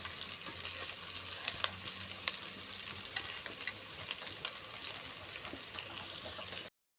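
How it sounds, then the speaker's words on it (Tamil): Onions sautéing in a pan for a Sunday fish curry, a steady close sizzle with occasional stirring scrapes running continuously, no talking. "அப்படியே வந்து வெங்காயம் பார்த்தா வதக்கிட்டு இருக்குது"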